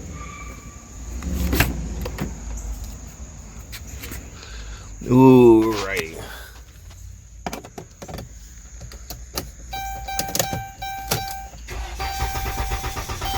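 A car engine cranking over on a newly replaced starter gives a short loud whirring burst midway, among clicks, electronic chime tones and a brief spoken exclamation.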